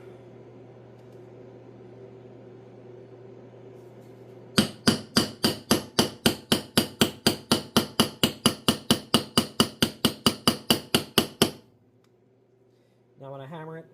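After a quiet hum, about twenty sharp, evenly spaced hammer strikes ring out in a steady rhythm while fitting a rim on a 1958 Farmall 450 tractor, then stop; a voice speaks briefly at the end.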